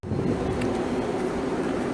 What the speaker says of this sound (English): the train just pulling into platform 9